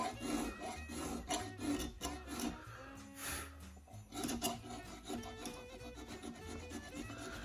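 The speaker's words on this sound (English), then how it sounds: "I'm gonna unlock my lathe, and I'm gonna continue that same established angle" Wood pen blank being shaped on a lathe for a Christmas diamond painting pen, a steady close rasping and scraping with brief dips as the cut moves along the blank.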